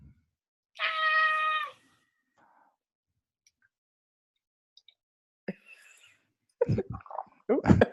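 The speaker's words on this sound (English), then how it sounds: "Oh, there's a kitty." A house cat lets out one clear, fairly loud meow near the start, followed by a quiet pause and then soft voices talking.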